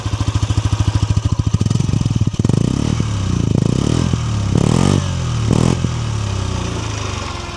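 A Hero Xoom 160 scooter engine idles with a steady close-up putter, then gets blipped in several short throttle revs that rise and fall before settling back to idle.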